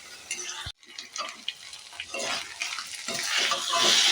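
Spices are stirred in a pan with a utensil for a pumpkin and okra dish, giving scraping, shuffling strokes and a soft sizzle that builds steadily, close by after a brief pause.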